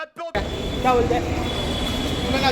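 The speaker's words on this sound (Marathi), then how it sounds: "चला आता ट्रेन आली आहे, ट्रेन पकडतो." A Mumbai local train rumbles into the station with a loud steady roar, faint wheel squeals and metallic tones rising above it, after a brief moment of talk at the start.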